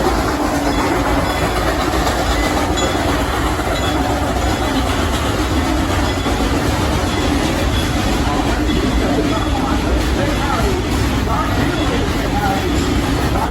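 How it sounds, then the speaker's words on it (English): Train rolling past at Silver Dollar City, an amusement park, a loud continuous rumble with rhythmic clattering of wheels over rail joints, sustained and close, with crowd voices mixed in underneath. "Sounds like a train's coming by."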